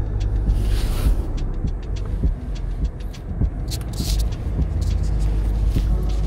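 Toyota Land Cruiser 300 ZX creeping along by itself in crawl mode, with a steady low engine and drivetrain rumble throughout and scattered clicks and knocks from tires on rough ground.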